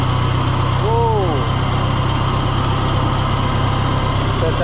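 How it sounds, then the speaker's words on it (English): Tractor engine idling steadily during fence building, a loud continuous low rumble right up close, with a brief higher whine partway through. "Shut the tractor off."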